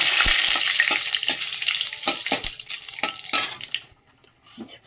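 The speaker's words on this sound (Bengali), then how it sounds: "আর এর মধ্যে যে গরম মশলা ফোড়নে দিয়েছি, তেল কম দিয়েছি কেন চর্বি টর্বি আছে তো, তেল বেরোবে। তেজপাতাও দিয়ে দিলাম একটু ফোড়নে।" Garam masala and bay leaf sizzle as they fry in a little oil with fatty meat in a home kitchen, a dense, bright crackle broken by scrapes and taps of a stirring spoon, fading toward the end.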